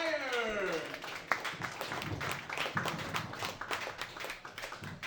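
A comedy club audience applauds comedian Pete Nelson, steady scattered clapping of a modest crowd heard at moderate distance, with a brief sliding tone at the start and a murmur under the claps.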